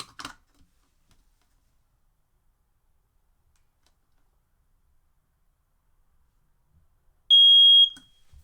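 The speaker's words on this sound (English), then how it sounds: "now your smoke detector is active." A motorhome smoke detector in a 2019 Chateau 24F RV gives a single shrill high-pitched beep about half a second long after a stretch of near silence, loud and close.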